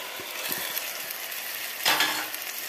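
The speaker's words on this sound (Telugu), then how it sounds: "ఇప్పుడు ఇందులో నేను 1/2 గంట పాటు మ్యారినేట్ చేసుకున్న చికెన్" Marinated chicken pieces, soaked for half an hour, drop into a pan of sizzling ginger-garlic paste for a methi chicken curry: a steady close frying hiss with light clinks, swelling into a louder sizzle burst midway.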